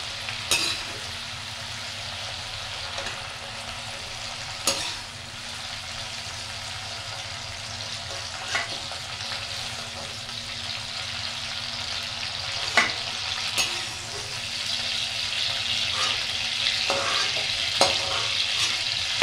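Onion and tomato fry in hot oil with a steady, fairly loud sizzle and occasional sharp pops and utensil clinks, building slightly toward the end, with no talking.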